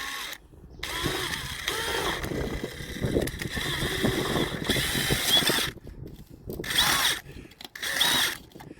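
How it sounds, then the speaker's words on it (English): A power drill whirs in several bursts while drilling two small holes on a caravan for an LPG fitting, stopping and starting as it bites through material, loud and close with short pauses between runs. "drill holes"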